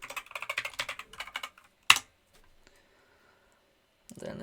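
Rapid keystrokes on a computer keyboard as a password is entered, a dense run of clicks for about a second and a half, then one sharp louder key tap, followed by quiet.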